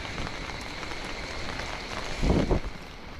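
Steady rain falls outdoors on a Mumbai street during a heavy all-day downpour, a continuous broadband patter with a brief louder gush near the end and no talking.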